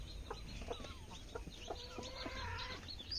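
Chickens in a farm shed at night, some hens with chicks, making soft scattered clucks and low murmuring calls, faint and close against quiet background hum.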